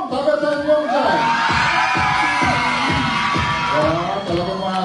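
A live studio audience of a kids' TV talent show shouts and cheers in a loud, sustained roar, with excited whoops rising over the crowd noise.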